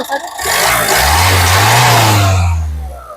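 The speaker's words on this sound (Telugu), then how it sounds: "ఒక్కసారి స్టార్ట్ చేయండి సింగిల్ సెల్ఫ్ లో కార్ స్టార్ట్ అయితే ఎటువంటి స్టార్టింగ్ ట్రబుల్ అయితే లేదు" A 2017 Ford EcoSport Titanium starts up close by, its engine catching quickly and surging into a loud rev that swells, holds and then eases back down.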